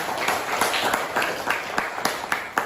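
Students in a classroom applaud a classmate, a dense patter of many hands clapping at once, with sharper individual claps standing out against the steady wash of noise.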